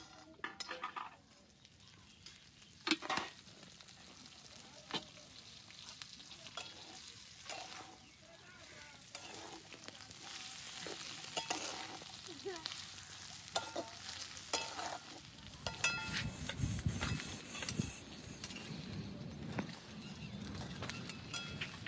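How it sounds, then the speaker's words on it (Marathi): Bombil (Bombay duck) fish frying in a pan, with a continuous sizzle broken by scraping and knocks of a utensil against the pan. The frying grows louder and denser toward the end. "आता चांगलं बोंबील तळून घेतलं."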